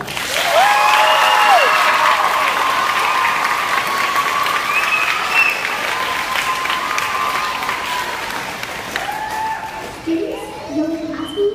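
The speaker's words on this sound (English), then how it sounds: "Let's give one more big round of applause for all of our candidates." Loud, sustained applause from an elementary school audience for student council election candidates fills a hall, thick steady clapping mixed with scattered children's shouts and voices that thin out and soften toward the end.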